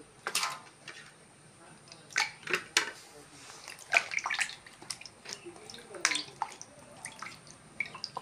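Water splashing and dripping while baim eels are washed before cutting in a home kitchen, with irregular close splashes and clinks of a pot or bowl and occasional faint background voice.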